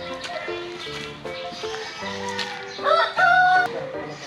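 A rooster crows near the end of the moment, fairly close, after chickens cluck in the background of a rural yard in the Philippines while people talk nearby.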